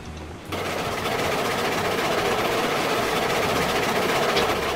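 Two locomotive engines running together in the RailRoads Online train game, a dense continuous mechanical rumble and chug that starts abruptly and holds steady at close range.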